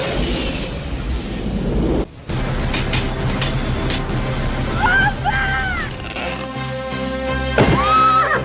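A horse neighs in an excerpt from a late-1980s to 1990s film or TV programme, with a whinny rising clearly over a dense, loud soundtrack of music and rumbling effects.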